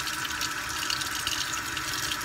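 A sink tap runs water to rinse etched glass, a steady close-up splashing hiss that continues without a break.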